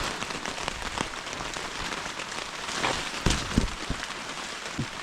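Heavy rain pelting down at a farm campsite in Tarlac, a dense close patter on a surface with scattered louder drops and splashes, steady throughout.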